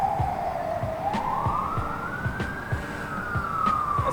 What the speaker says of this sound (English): I'm going to go ahead and do full throttle